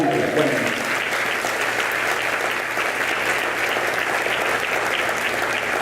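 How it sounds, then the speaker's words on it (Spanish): A church congregation claps loudly and continuously, a dense, sustained wash of applause from a large indoor crowd with voices mixed in. "Alguien lo puede creer y que le aplauda a Jesucristo fuertemente"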